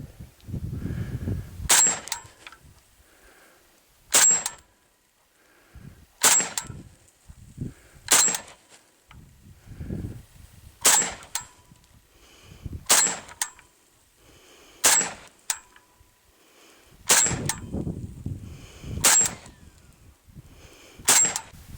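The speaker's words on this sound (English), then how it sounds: "10 rounds, going hot." An AK rifle fitted with a 74-style zigzag muzzle device fires ten sharp single shots spaced about two seconds apart outdoors, each a loud crack with a ringing metallic tail, with quieter handling noise between shots.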